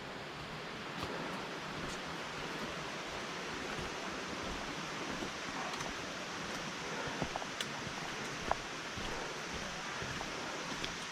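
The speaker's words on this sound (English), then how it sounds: "it looks like we're crossing the creek up here" A mountain creek on a hiking trail in the Great Smoky Mountains rushes steadily near a small footbridge, a constant broad wash of flowing water with no voices.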